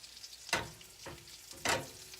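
Eggs fry in bacon grease in a skillet, a quiet steady sizzle broken by a few sharper bursts of spitting hiss at intervals, close by, with no talking.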